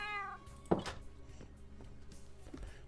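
A Minecraft cat meows once at the start, a clear close meow, followed by faint clicks and small game sounds.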